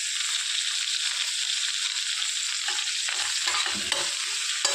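Curry leaves sautéing in a pan with urad dal, a dense bright sizzle that holds steady throughout, with a few soft stirring sounds near the end, close and without speech.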